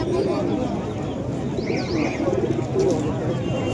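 Giribaz and Madras pigeons coo softly in repeated low throaty calls at a pigeon sale, mostly beneath someone talking nearby.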